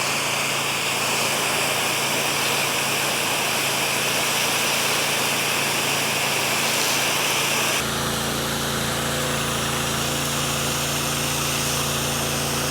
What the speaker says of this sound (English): I am hearing a slight hesitation in my trash pump in the engine.